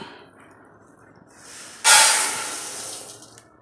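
Roasted coriander seeds pour into a vessel for homemade sambar powder, a sudden dense rattling hiss that bursts in near the midpoint and tapers off gradually, close and fairly loud against a quiet background.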